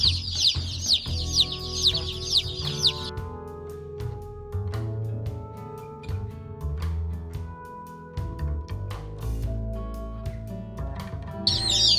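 A crowd of stressed Delaware heritage meat chicks in a brooder cheeps loudly in rapid bursts of shrill, insistent peeping, with rustling and soft knocks between the bursts.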